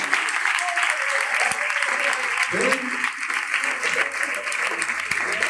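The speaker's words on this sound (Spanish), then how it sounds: "un aplauso para los chicos de acá de radio" An audience gives the radio crew a round of applause at a church gathering, dense clapping that stays loud and continuous throughout, with some voices mixed in underneath.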